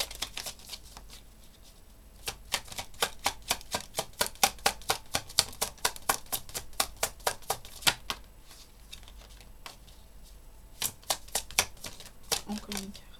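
A tarot deck is handled during a reading as rapid, crisp card snaps come in two rhythmic runs, close and soft, separated by a quiet pause.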